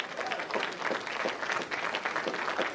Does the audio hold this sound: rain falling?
no